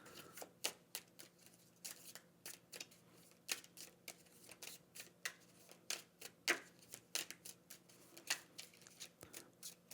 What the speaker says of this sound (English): I need to shuffle these